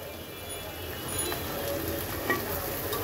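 Green chili, taro and onion fry together in a pan, making a close, steady sizzling hiss that swells slightly partway through. No one talks.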